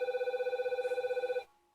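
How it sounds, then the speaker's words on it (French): A telephone rings indoors during a yoga class, a steady trilling electronic ring that pulses rapidly for over a second and then cuts off abruptly. "Désolée pour le téléphone, les amis."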